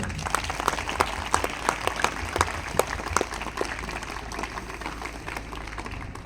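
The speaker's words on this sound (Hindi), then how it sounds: "जोरदार ताली बजाइए" Loud applause from a large crowd at an outdoor school sports ground ceremony, dense continuous clapping with sharp individual claps early on that gradually thins and softens toward the end.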